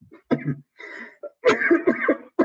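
A burst of harsh coughs close up, several in quick succession after a brief rough throat sound, loud and uneven.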